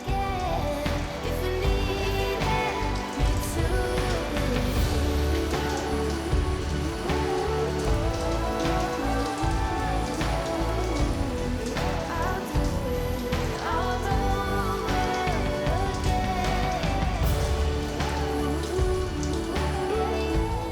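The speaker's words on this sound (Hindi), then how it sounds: "बारिश को बच्चों ने भी बहुत इन्जॉय किया" Steady rain pours down at a beach resort, a dense, continuous hiss that holds at an even loudness throughout with no pauses.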